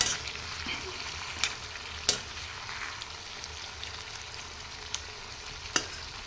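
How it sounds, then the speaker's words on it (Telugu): Boiled chicken, its cooking water and masala being stirred in a pan for a spicy chicken fry, a soft steady simmering hiss broken by a few sharp spoon scrapes and clicks against the pan. "ఈ మసాలాలన్నీ బాగా కలిసే వరకు దీన్ని అంత బాగా కలుపుకోవాలి."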